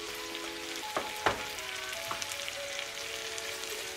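Butter sizzles in a pan for lobster mac and cheese, a steady crackling fry with a couple of sharp clinks from the pan, and no one talking.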